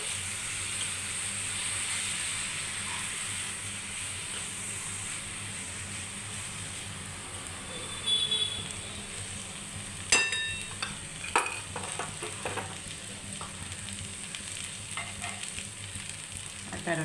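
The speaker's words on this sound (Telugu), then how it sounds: "మునగాకు బాగా వేగిన తర్వాత ఒక కప్పు తెలగపిండి పొడి వేసుకొని బాగా కలుపుకోవాలి." Drumstick leaves frying in a pan as sesame powder is stirred in, a steady low sizzle with scraping stir clicks and spoon knocks toward the end, close and alone.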